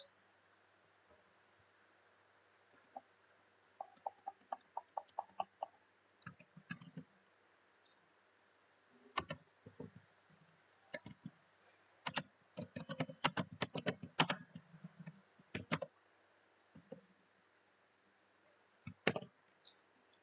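Keystrokes on a computer keyboard while entering text at a Linux terminal, in quick irregular bursts of clicks separated by short pauses, close and fairly quiet, with no talking.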